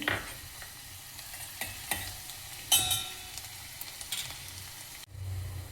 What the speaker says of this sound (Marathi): तेल तापलेलं आहे। मी कांदा टाकत आहे चिरलेला